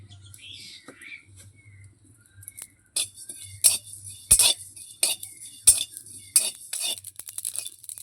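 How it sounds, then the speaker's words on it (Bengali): Whole cumin seeds dry-roast in a hot, oil-free wok. After a near-silent start, a spatula makes sharp, irregular scraping clinks against the metal at close range. "প্রথমেই আমি শুকনো খোলায় গোটা জিরে ভেজে নেব।"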